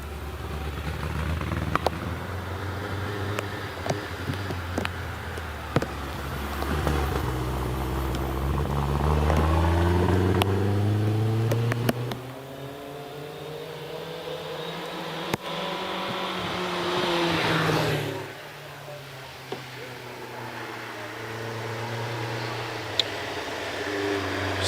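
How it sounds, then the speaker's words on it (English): A vintage Lagonda Rapier car climbing Prescott hill climb, engine note rising through the gears, falling off and building again as it pulls away, moderately distant with a steady background hum. "So, does Jane's Lagonda Rapier sound healthier now?"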